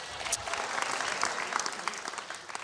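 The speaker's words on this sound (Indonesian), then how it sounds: "Alhamdulillah, ada tepuk tangan ya." Applause from an audience at a televised anniversary celebration gala, a steady patter of many hands clapping at moderate distance, fairly soft and continuous throughout.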